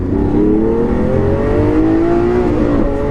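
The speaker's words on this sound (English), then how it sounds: "I'm short shifting because this car's got 700 brake horsepower" A modified Lamborghini Aventador with about 700 brake horsepower accelerates hard, its engine note rising steadily in pitch and staying loud and close throughout, with no talk.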